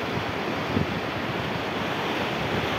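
Floodwater from a cloudburst surges down the Wagh river in Gondia, a steady, dense roar of rushing water running unbroken throughout with no voices.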